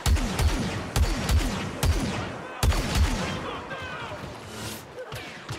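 Blaster gunfire in Star Wars Battlefront 2 on Endor: repeated loud sharp shots in quick bursts, with a heavier blast in the middle, then a rumbling, crackling battle wash, all close and dense.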